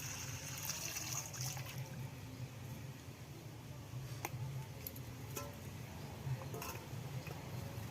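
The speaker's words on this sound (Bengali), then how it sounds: "আমি খানিকটা ঠান্ডা জল নিয়ে নিচ্ছি এখানে" Cold water pours into a cooking pot of broccoli, a faint continuous trickling over a low background hum, with a few sharp clinks, and no talking.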